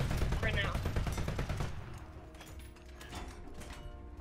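Automatic gunfire in the War Thunder tank combat game, a dense, loud burst of rapid shots in the opening moments that thins into scattered, quieter reports and mechanical clatter, with voices talking over it.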